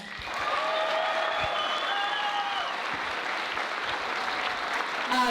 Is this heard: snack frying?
no